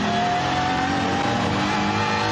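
Seen from on board during a qualifying lap of the Nürburgring, a BMW M4 GT3 race car holds a loud, continuous engine howl near full revs, with no speech.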